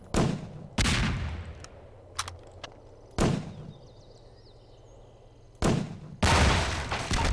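Explosive crates blowing apart in Half-Life 2 Episode 2, a series of loud, sharp blasts separated by short quiet gaps, with a couple of smaller pops in between.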